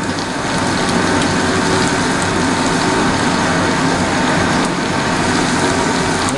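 Capsicum, chopped green chilli and chopped onion frying in a pan for Bengali-style egg chowmein, giving a steady, loud, dense crackling sizzle that fills the whole stretch without pause, with no talking.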